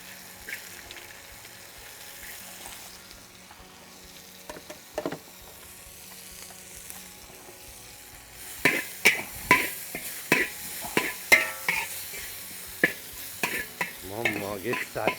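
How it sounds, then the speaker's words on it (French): Lamb frying in a pan with carrots added, a steady quiet sizzle at first, then a run of sharp spoon clacks and stirring scrapes against the pan over continued frying, close by. "Et comme on finit frire mon agneau, je peux mettre carottes."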